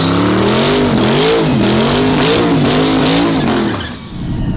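A cop car's engine revs hard and loud, the pitch climbing and wavering through several throttle swells before dropping off near the end, with no talk over it.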